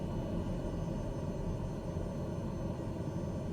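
TBM 930 turboprop engine at high idle in Microsoft Flight Simulator, a steady low droning rumble with an even whine, continuous and unchanging with no talk.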